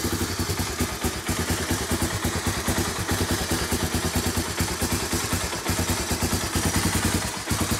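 A 1985 Honda ATC250ES three-wheeler engine idles with a rough, uneven chug, steady and close, its rapid pulsing rhythm slightly irregular throughout.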